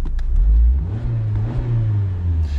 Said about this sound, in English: Starter up, there's our start sequence.